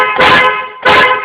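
Two loud car horn honks on grandpa's car, each about a third of a second long and separated by a short pause, sounding close and with no talking over them.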